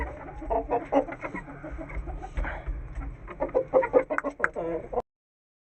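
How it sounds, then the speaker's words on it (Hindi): An Aseel hen clucks in a farmyard, giving a string of short, close, moderately loud clucks that grow busier toward the end before stopping abruptly. "हमारी ये मुर्गी भी बाहर आ गई है"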